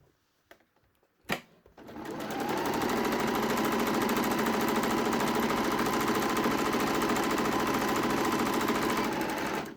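Sewing machine stitching fabric for a dungaree bib, a few brief clicks and a thump, then a fast, continuous mechanical whirr that runs steadily at close range until the end.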